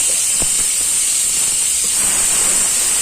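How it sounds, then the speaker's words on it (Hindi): Tomatoes and chillies fry in a hot pan, a constant loud hiss of steam and sizzle close by, with a few soft knocks underneath. "अब इसमें टमाटर, मिर्ची और हरी मिर्च डाल देंगे"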